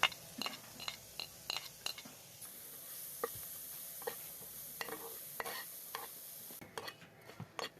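Green chillies fry with onion and spices in a pan, a faint sizzle under frequent light scrapes and clinks of a utensil being stirred, with a brief brighter hiss near the end.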